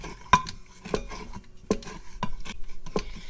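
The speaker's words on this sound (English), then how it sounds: "we will be able to scrape the bits off the bottom and into our sauce" A utensil scrapes browned bits off the bottom of an Instant Pot into heating broth, with rhythmic metallic scrapes and taps repeating about every half second, close and fairly quiet.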